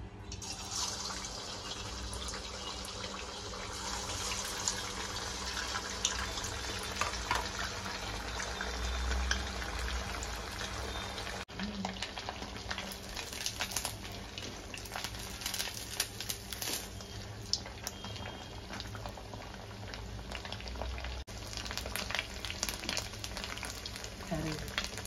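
Cutlets frying in hot oil, a faint, steady bubbling sizzle that runs unbroken throughout, quiet and even with small crackles and no clear talk.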